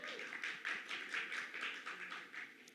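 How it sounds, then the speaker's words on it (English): Dense audience applause at the Daaku Maharaaj film release event, honoring Balakrishna. A close, continuous crowd of clapping hands with slight swells in rhythm, and no voices over it. "A big round of applause for him."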